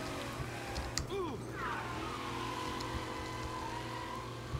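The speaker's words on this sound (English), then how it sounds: "I didn't think the engine was gonna sound like that" A car engine revving and accelerating in a mafia crime video game, a steady mid-pitched roar that climbs and sweeps in pitch, with a voice talking over it.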